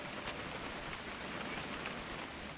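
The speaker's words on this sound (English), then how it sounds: "It's gonna rain the whole weekend" Steady, dense rain falls evenly with a soft hiss of drops spattering across surfaces, in the video game What Remains of Edith Finch. No voices are heard.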